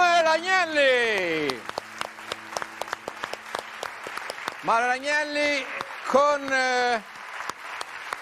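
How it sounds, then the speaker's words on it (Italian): Audience applause rolls on steadily for a performer at a music event, a dense patter of clapping running beneath a presenter's loud, animated speaking voice. "Un grande applauso"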